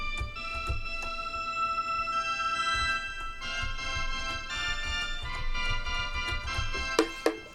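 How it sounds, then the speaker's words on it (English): A mandolin string bowed rather than plucked, giving a sustained, droning tone with steady harmonic overtones and faint bumps and knocks, ending with a couple of sharper taps. "So I've just used the mandolin, this string with the bow,"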